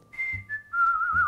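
A person whistles a short, clear tune of a few sliding notes, up close and fairly quiet, alone without talk.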